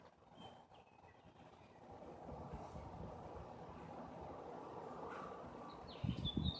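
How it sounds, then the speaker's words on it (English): Birds chirp faintly in the distance over a steady outdoor ambience, with a brief louder rustle near the end. "just listen to the birds chirp."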